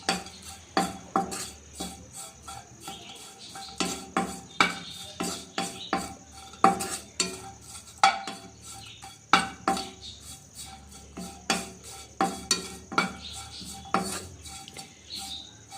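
Peanuts being dry-roasted on low flame in a pan, stirred with a ladle that scrapes and clinks against the metal in a steady, repeated rhythm of sharp rattling strokes; close and moderately loud, with no talking.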